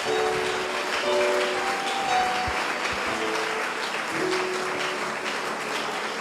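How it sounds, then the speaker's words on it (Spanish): A church congregation claps in steady, broad applause that fills the room, with faint sustained musical tones running beneath it. "Le puedes dar ese aplauso al Rey de Gloria"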